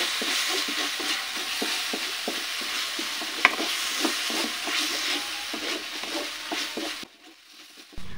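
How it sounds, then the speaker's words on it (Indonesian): Spices for a crab dish sauté in a pan with a continuous sizzle, marked by rhythmic scraping stirs and a single sharp clink before the sound cuts off near the end. "ini kita tumis dikit ya teman-teman sampai agak kecoklatan dikit"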